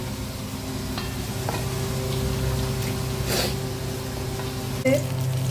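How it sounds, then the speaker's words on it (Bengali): Onions fry in a pan with a steady low sizzle, joined by a few faint clinks and scrapes nearby and a brief knock near the end. "এদিকে পেঁয়াজ ভাজা হচ্ছে"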